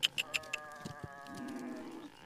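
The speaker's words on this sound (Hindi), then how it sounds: "एक बकरा ये भी है इनका।" Goat in a forest sheep-herding setting, a short drawn-out bleat after a few sharp clicks or taps, faint and fairly close, with no talk.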